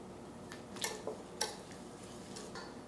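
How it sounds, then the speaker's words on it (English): Granular allulose being stirred into heavy cream in a pan, giving a few light scraping clicks and ticks of a utensil against the pan, quiet and intermittent with no talking. "I'm going to stir it until the allulose is gone"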